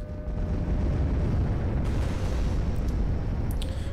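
Carpet bombing explosions from the card video game KARDS: a sustained low rumbling roar of blasts, dense and booming, with a few sharp crackles near the end.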